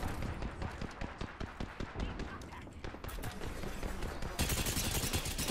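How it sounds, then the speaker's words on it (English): Charge rifle fire in the shooter game Apex Legends comes as a run of sharp, rapid shot bursts and impacts over busy game noise, and the sound grows denser and louder toward the end. "Nice shot from the charge rifle."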